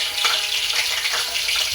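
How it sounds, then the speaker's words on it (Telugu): Cumin seeds dropped into leftover hot oil while cooking a masala brinjal curry, sizzling and crackling loudly and steadily with close, bright frying hiss throughout. "ఆ రిమైనింగ్ ఆయిల్లో మనము జీలకర్ర వేసుకోవాలి"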